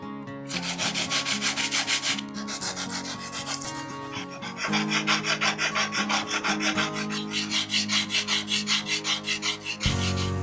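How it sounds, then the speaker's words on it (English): Steady, rhythmic sanding strokes rasp back and forth close by as pearl inlay dots are sanded flush on wood, loud and continuous with a brief pause midway, no voices. "Sanding the dots flush."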